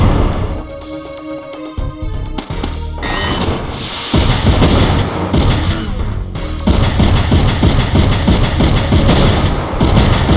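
Gunfire and explosions from the video game Front Mission 3: dense bursts of shots, crashes and booming blasts rattle on continuously and loudly, with a quieter stretch at the start, and no talking.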